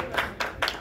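Brief applause from the audience at a history quiz competition held by Akhil Bharatiya Vikas Parishad in Neem Ka Thana: a few quick bursts of clapping, moderately close, with no speech over it.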